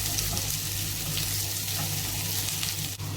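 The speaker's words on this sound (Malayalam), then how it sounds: "എണ്ണ ചൂടായി വന്നിട്ടുണ്ട്. അതിലേക്ക് നമ്മൾ സവാള വഴറ്റിയെടുക്കാം." Two large onions sauté in hot oil for sambar, a steady close sizzling hiss with faint stirring scrapes and no talk over it.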